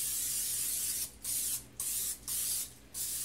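Cooking spray hisses onto a pizza pan in four short, loud bursts, each roughly half a second long and separated by brief pauses, close up with no talking.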